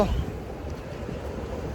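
Steady wind on a beach rumbles and buffets against the microphone, a low continuous roar without pauses.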